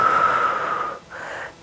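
Heavy breathing during a home muscle-strengthening workout: one long, loud, close exhale followed by a shorter breath, with no talking.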